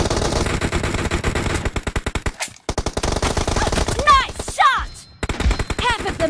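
Rapid automatic gunfire in a PUBG Mobile tournament match, dense bursts of shots in quick succession with a brief pause, loud and up front, mixed with whooshing game effects and a little voice.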